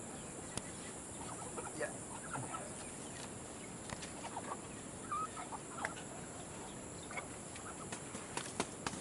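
Rhode Island Red chickens cluck softly and intermittently in a henhouse, with faint scattered calls over a hushed background. One brief word is spoken.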